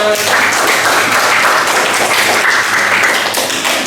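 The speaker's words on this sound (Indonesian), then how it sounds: "Kasih aplaus untuk kita semua" Steady, dense applause from a classroom group of students, loud and close, sustained throughout with no pause.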